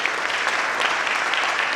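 Audience at a staged performance of the Marathi play Ghashiram Kotwal breaks into dense, sustained applause, loud and steady throughout with no voices over it.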